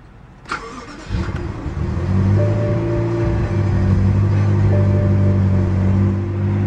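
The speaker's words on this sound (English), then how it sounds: "Just put your foot on the brake, hit the button to start." After a brief click, a 2012 BMW X6 fires up by push-button ignition, cranking for a moment before settling into a steady, smooth idle close by.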